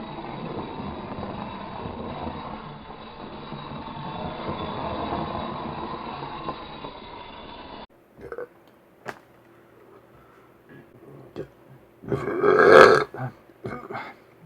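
A burp after eating a lot of popcorn rises briefly near the end, a short throaty belch following a long stretch of rumbling noise and scattered faint clicks in a quiet room.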